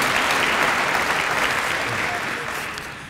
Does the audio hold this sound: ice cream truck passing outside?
no